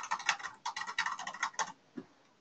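Rapid clicking keystrokes on a computer keyboard, a quick run of taps over about two seconds, then a single last key press, fairly quiet and close.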